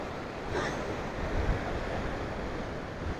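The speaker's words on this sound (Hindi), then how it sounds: "लहरें देखिए आप लोग, ये देखिए" Sea waves break and wash continuously below Fort Aguada in Goa, heard from above as a steady roar of surf mixed with wind noise on the microphone.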